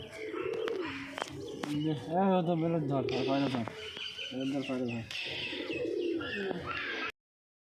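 Several kept fancy pigeons, including Girebaz, Sirazi and Kalshira breeds, coo and murmur close by, with a person talking at the same time; the sound stops abruptly at the end.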